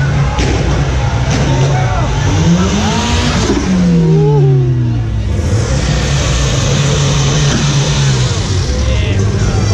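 A show car revs and accelerates on a busy street at a car exhibition in Santa Teresita, engine pitch rising and falling, loud and close with crowd noise and talk around it.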